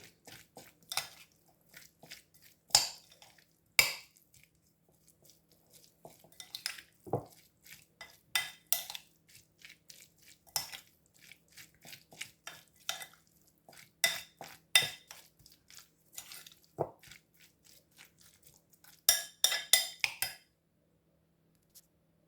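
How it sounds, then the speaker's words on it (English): Crème fraîche and tartar sauce stirred together in a bowl give soft clinks and scrapes of a utensil against the dish, irregular and quiet, with brief wet squishes between the taps. "This here I'm using is some creme fraiche and a bit of tartar sauce. Just mix it together."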